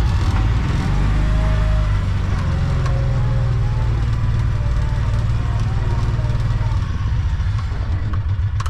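A Kawasaki Mule 3010 utility vehicle engine runs steadily at idle after a tune-up, a close, continuous low rumble with a voice speaking over it.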